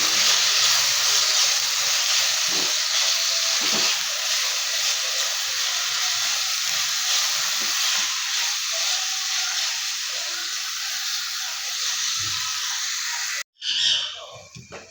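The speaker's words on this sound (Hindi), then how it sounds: "अब अपने मसाला जात हम इसमें शामिल कर देंगे। आँच धीमी है। अब हम इसको थोड़ा सा भून लेंगे।" Spices fry gently over low heat in a pan for an Afghan omelette, giving a steady, fairly quiet hiss that holds evenly before a brief clatter near the end.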